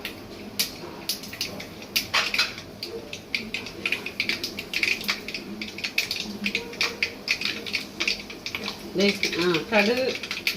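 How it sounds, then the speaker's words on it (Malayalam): Mustard seeds splutter and pop in hot coconut oil, with quick crackling bursts scattered throughout that cluster more densely near the end, heard alongside a person talking. "കടുക് പൊട്ടി."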